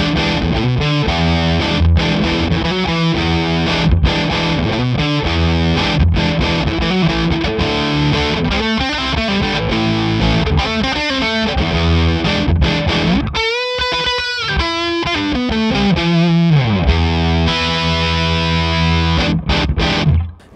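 A Gibson GA-30RV amp feeding a Celestion Classic Lead speaker carries a heavily distorted electric guitar through dense chord riffs and sustained lead bends, loud and steady for the whole stretch.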